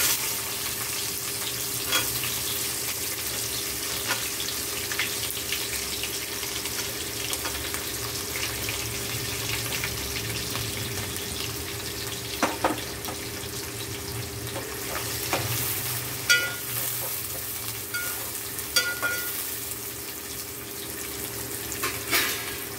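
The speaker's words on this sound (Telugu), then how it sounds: "దీనిలో కట్ చేసి పెట్టుకున్న ఉల్లిగడ్డ ముక్కలు, పచ్చిమిర్చి వేసేద్దాం." Chopped onions and green chillies fry in a pan for a prawn and ladyfinger curry, giving a steady, even sizzle with occasional soft clicks from stirring throughout, and no voices.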